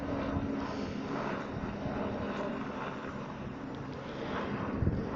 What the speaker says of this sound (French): Et il y a un hélicoptère qui passe.